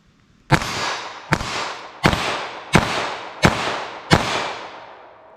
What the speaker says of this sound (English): That's moving so fast that it hits the target, and all I hear is the gunshot.